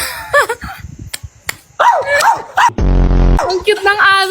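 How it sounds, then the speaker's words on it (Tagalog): A small dog barks and yips in short bursts amid lively indoor chatter, with a loud buzzy noise burst partway through; people talk over the sound throughout. "Ang cute ng aso naka-braids."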